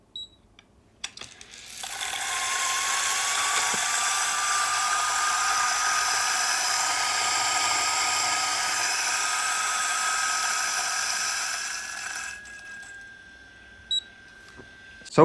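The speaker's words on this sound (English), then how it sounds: "I have 16 grams here in my dosing cup, and I'm grinding espresso at the setting 2." An electric 78S coffee grinder fitted with Timemore Sculptor burrs grinding a 16-gram espresso dose, a loud steady high whine for about ten seconds, starting and stopping with soft clicks.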